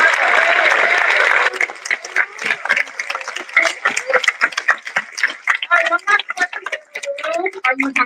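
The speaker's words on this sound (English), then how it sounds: "Can we get a round of applause for Jeff?" Audience applause at a Comic Con panel marking a graphic novel publisher's 20th anniversary, a dense burst of clapping for the first second and a half that thins into scattered claps under an excited voice and murmuring crowd.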